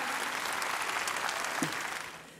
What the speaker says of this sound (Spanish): quisiéramos darle un buen aplauso de bienvenida hoy.